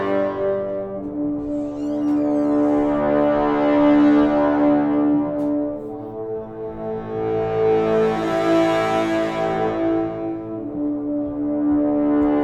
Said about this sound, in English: You can tell when the low brass is going to come in, and it's going to be much more intense.